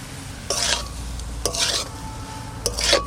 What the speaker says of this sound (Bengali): এবার ফুলকপি আর আলুগুলো দিয়ে দিচ্ছি